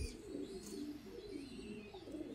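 Pigeons at a Vietnamese pigeon-breeding farm coo steadily in low, rolling phrases, with a few faint higher chirps over them and no talk.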